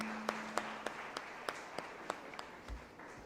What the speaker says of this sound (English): Ladies and gentlemen, please join me in welcoming him with a warm round of applause.